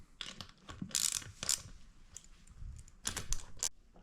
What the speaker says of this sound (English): This part's not extremely necessary with the ratchet, but I like to do it so that you get a little bit closer to that torque